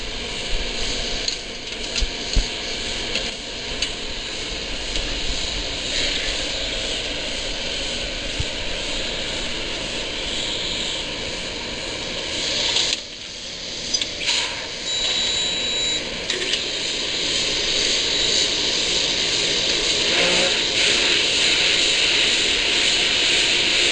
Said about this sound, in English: Blower on.